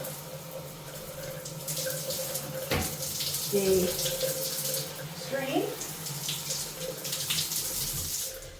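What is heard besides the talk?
tap water running over brushes in sink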